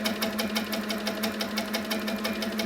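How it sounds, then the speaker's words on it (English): An HQ Sweet Sixteen quilting machine stitching free motion quilting, a steady, rapid mechanical pulsing chatter heard close up that runs evenly throughout, with no talking. "So let's just sew a few stitches in one place"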